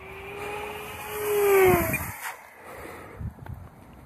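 An Excalibur V2 RC airplane flying in gusty headwind, its electric motor whining up as power is applied, a rising tone that swells loudly mid-clip before fading, with wind noise around it.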